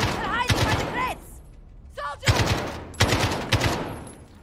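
Rapid gunfire in the Modern Warfare video game, several loud bursts of shots spaced about a second apart, with game voice lines breaking in between.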